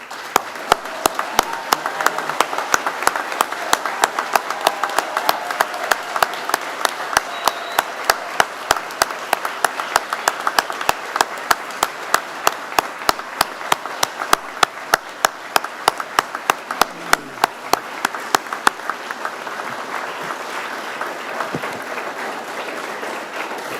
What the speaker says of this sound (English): give one final applause for your hard work and effort